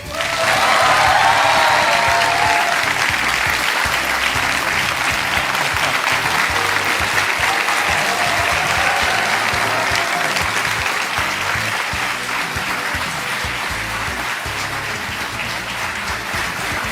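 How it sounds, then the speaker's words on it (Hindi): A large crowd at a public rally in Ringas, Rajasthan, applauds loudly and steadily, a dense, sustained wash of clapping with faint cheering that holds for the full stretch and only eases slightly toward the end. "और ये तालियां बजते रहें,"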